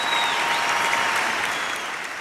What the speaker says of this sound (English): Let's give a little round of applause